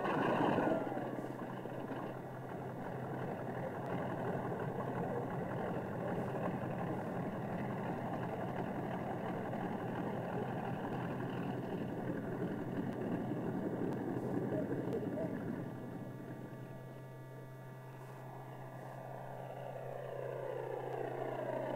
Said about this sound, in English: This time, the engine cooperates.